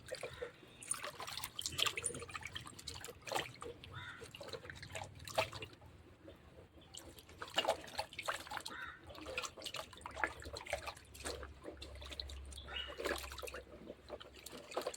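Soil being washed off freshly dug tubers, with irregular splashes, drips and trickling water close by, interrupted by brief pauses and a low hum underneath.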